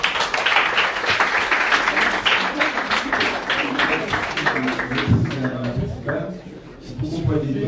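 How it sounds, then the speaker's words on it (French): Audience at a French school ceremony applauding, dense clapping through most of the stretch that thins out near the end as a voice speaks. "M. Arnel, vous l'applaudissez s'il vous plaît."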